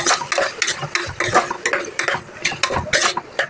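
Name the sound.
stirring mutton with tomatoes in a pan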